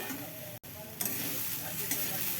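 Grated coconut with cardamom fries and gets stirred in a pan for sweet naru, giving a soft continuous sizzle with occasional scraping strokes and a brief dropout near the start, fairly quiet and close.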